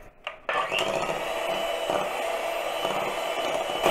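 An electric hand mixer starts up after a couple of brief clicks and then whirs steadily at close range, beating cake batter with milk in a bowl.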